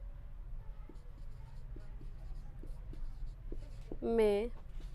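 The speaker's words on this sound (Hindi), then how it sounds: "तो यहाँ पे हम लिख लेते हैं" Pen or pencil writing notes by hand on paper during a Hindi biology lesson on the stomach, soft scratchy strokes in short repeated bursts, fairly quiet, with a brief voiced sound near the end.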